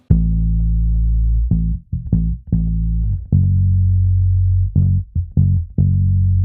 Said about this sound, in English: I went ahead and added the bass guitar, which sounds like this.